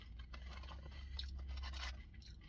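Crunchy fried fast-food breakfast, breaded almost like panko, is chewed close to the mic in faint, irregular crisp crunches and bites, with no voices.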